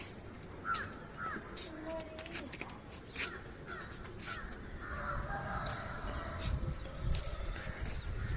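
Crows caw repeatedly from nearby in an outdoor morning setting, harsh calls spaced through the stretch over a steady low background rumble, with other bird calls faintly mixed in.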